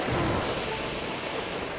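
Thunder and rain from a lightning storm in the video game Skyward Sword, a dense steady wash of rainfall with a low rolling rumble underneath, continuous and moderately loud.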